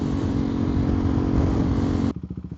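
A 2024 KTM Duke 390 Gen 3 motorcycle pulls hard under a rider, its single-cylinder engine droning loud and close, then cuts sharply to a pulsing, chopping exhaust beat as the quick shifter snaps through a gear change.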